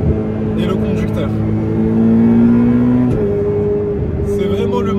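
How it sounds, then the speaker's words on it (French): A Ferrari 488 Pista with a titanium exhaust in race mode revs hard, its engine note rising and holding as a loud, droning tone before a slight drop, with a voice talking over it. "malgré la ligne en titane, le mode race, le fait qu'on hurle jusqu'à 8000 tours minute"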